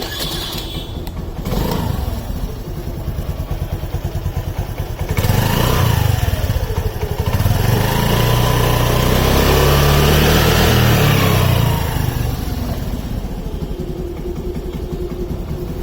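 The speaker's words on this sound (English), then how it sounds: "This has a typical 4-stroke scooter sound, nothing much, not too different from what the other scooters have." A Honda Navi 4-stroke scooter starts up and its engine settles into a low, steady exhaust burble close by. A few throttle blips rise and fall before it drops back to idle.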